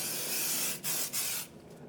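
Aerosol spray hisses onto a resin elf ear mold in steady close bursts, with two brief gaps before the hiss fades out near the end.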